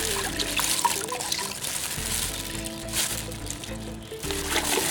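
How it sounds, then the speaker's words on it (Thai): A tie-dyed T-shirt being rinsed with plain water, giving close trickling and sloshing water sounds with fabric handling throughout, over a steady hum of background noise. "นี่น้ำเปล่าใช่ไหมล้างน้ำเปล่าค่ะ"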